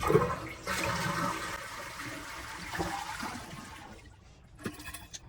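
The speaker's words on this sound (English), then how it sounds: "And flush to remove all the water from the tank." A toilet tank flushes and drains with a loud rushing gush of water that tapers into trickling and gurgling as the tank empties, heard up close in a bathroom with no talking.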